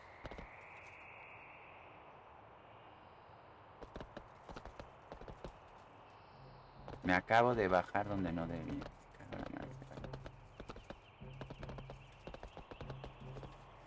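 Hoofbeats of a horse mount trot along in World of Warcraft, faint at first and then a clearer rhythmic clip-clop run, with someone speaking briefly over it and soft game ambience beneath.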